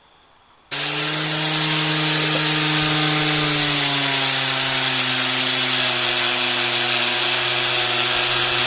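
A polishing tool on an engine block starts abruptly and holds a loud, steady, high whirring whine that slowly settles in pitch, heard close with no one speaking.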